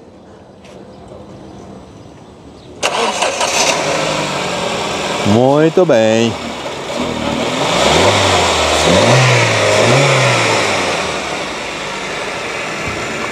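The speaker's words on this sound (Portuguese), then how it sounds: "O amigo vai dar partida aqui no motor para a gente escutar ele funcionando." A used car at a car fair in Caruaru, Brazil cranks and catches, revs up sharply a couple of times, then settles into a steady running idle, close by, with a brief voice over it.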